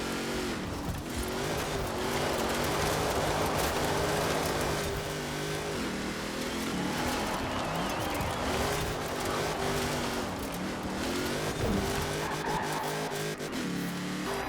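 Racing car engine in Forza Horizon 4 on a track, loud and sustained with rising revs, gear shifts and occasional tire squeal, no voices over it.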